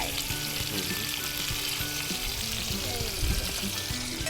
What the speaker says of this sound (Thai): เดี๋ยวเราจะมาผัดมาม่าไง